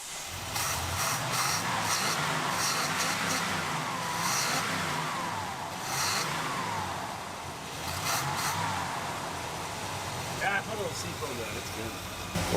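Junker rally car engine revving in repeated rising and falling surges over twelve seconds, close and moderately loud, with people talking over it.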